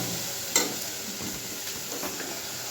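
Spiced masala for a crab curry being sautéed in a pan, a low steady sizzle with one sharp scrape of the spatula near the start, close and fairly quiet.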